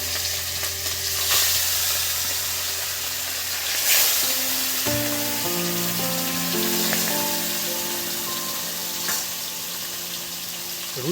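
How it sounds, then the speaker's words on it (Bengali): Marked rohu fish pieces fry in very hot oil, a loud continuous sizzle and spatter close by, with a few sharper crackles over a low hum. "তেলটা খুব প্রচণ্ড হারে তেতে গেছে। হ্যাঁ, এবার এই মুহূর্তে যে দাগাদার যে রুই মাছের পিস দিয়ে দিচ্ছি"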